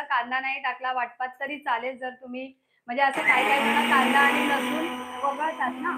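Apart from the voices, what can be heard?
mixer grinder running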